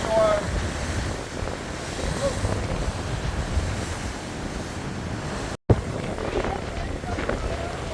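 High ocean waves crash on the shore at St. Petersburg, Florida, during Hurricane Idalia, a continuous roar of surf mixed with strong wind buffeting the microphone, with a brief dropout partway through.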